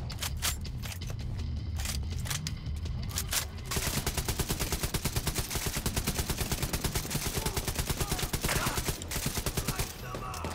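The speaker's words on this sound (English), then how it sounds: "Oh shit, I do see the minigun." Minigun in The Division 2 cutting loose in a long, rapid, unbroken burst of shots, loud and close, preceded by a few seconds of scattered gunfire and battle noise.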